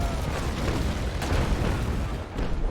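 Cannon fire from a small sailing ship in the naval battle game Naval Action, a heavy, sustained roar of booming blasts that fills the whole stretch with dense, loud rumble and no voices.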